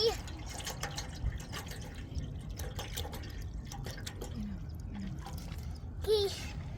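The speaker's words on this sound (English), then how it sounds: "Guys, I'm spilling water." Water poured from a container while making tea at a night campsite, a steady thin trickle with light dripping running under the background, with a brief splashier burst near the end.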